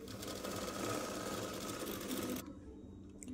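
A sewing machine runs steadily close by, stitching an umbrella-style dress with a fast, even whirring buzz for about two and a half seconds before stopping abruptly.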